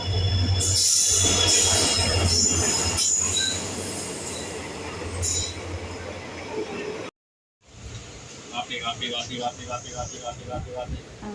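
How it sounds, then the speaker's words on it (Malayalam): A train pulls into a station with loud metallic wheel squeal and rumbling carriages, followed after a brief gap by rhythmic clicking of the wheels as it slows, while people talk over it. "കുറേ സമയം വെയിറ്റ് ചെയ്തപ്പോൾ ട്രെയിൻ വരുന്നുണ്ടായിരുന്നു"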